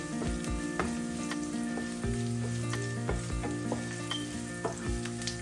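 Sautéing for a Sri Lankan egg curry in a clay pot: a steady close sizzle with scattered clicks and scrapes of a spoon stirring, no talking.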